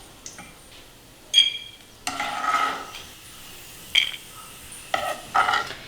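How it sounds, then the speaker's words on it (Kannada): A metal spoon scrapes and clinks against a pan as fried food in ghee is scooped into a bowl. The sounds come in a few separate bursts with quiet gaps between them, close by and moderately loud. "ಈಗ ಒಂದು ಬೌಲ್ಗೆ ಹಾಕ್ಬಿಟ್ಟು ಸೈಡಿಗೆ ಎತ್ತಿಟ್ಕೊಳ್ಳೋಣ"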